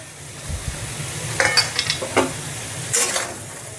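Green peas tipped into a hot pan of spices for a Bengali paneer dish sizzle softly while a spoon scrapes and stirs them in a few bursts.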